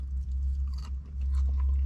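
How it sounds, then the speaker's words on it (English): Crunchy KFC chips from a slider box chewed close to the mic, with several crisp bites and crunches in uneven rhythm over about two seconds, no talking. "Oh, we got a bit of a crunch to them today."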